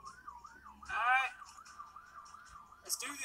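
Ambulance sirens wail in a video game, a faint rising and falling tone repeating steadily, with a louder burst of siren partway through and a voice-like sound near the end.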